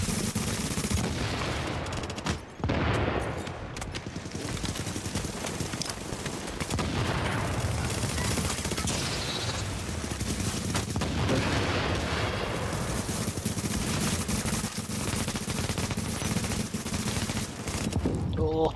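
Video game gunfire, with sustained, dense bursts of rapid shots and booms filling the whole stretch at close, loud level, while faint talk sits underneath.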